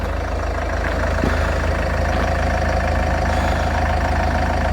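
A Land Rover Freelander 2 engine idles just after a timing belt change, a steady, even mechanical hum with a fine regular pulse, close and continuous with no voices.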